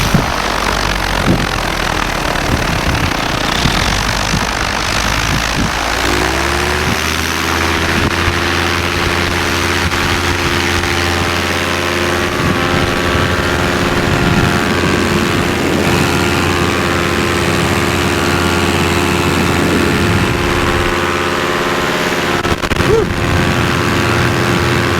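A paramotor engine spools up for takeoff, rising from a rough low idle into a loud, steady propeller drone that holds strong and close throughout, with faint wind noise.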